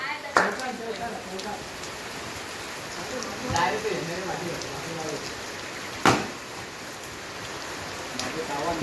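Steady hissing rain pours over a village cricket game in the Konkan, with occasional sharp knocks and thuds cutting through and people talking throughout.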